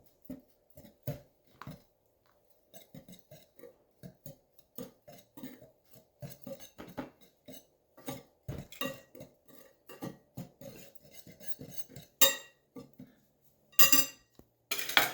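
Dry waffle mix of oat and millet flours being stirred in a bowl, giving a run of quiet irregular scraping and clinking strokes with a few louder knocks, close by and with no voices.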